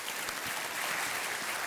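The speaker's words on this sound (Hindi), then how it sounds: "तालियां बजती रहनी चाहिए देवी और सज्जनों।" A studio audience applauds on the quiz show KBC, a brief, even burst of dense clapping with no voice over it.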